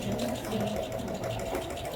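A sewing machine stitching fabric in a sustainable design demonstration, running continuously with a fast steady mechanical whir and needle rattle throughout, moderately quiet.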